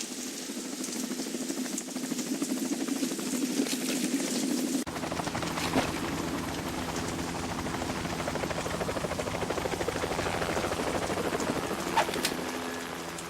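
A helicopter in the Metal Gear Solid 2 video game: steady, loud rotor chop and engine drone, first alone and then, after an abrupt change, mixed with a brighter, denser clatter that continues to the end.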